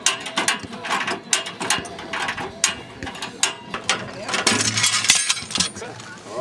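A Hi-Lift jack being worked back down in a 4x4 recovery setting, giving a quick run of sharp metallic ratchet clicks and clanks in uneven bursts, close and fairly loud, with a few brief voice sounds mixed in.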